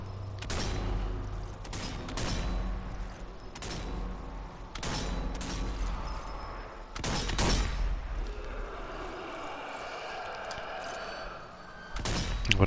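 Gunfire in the zombie shooter Zombie Army 4, roughly eight sharp, booming shots spaced irregularly over a low rumbling game ambience, some fired in quick pairs, the last closing the sequence.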